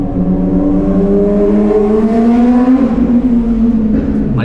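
A motorbike passes close by, its engine whining loudly and climbing steadily in pitch over a few seconds. No voices are heard over it.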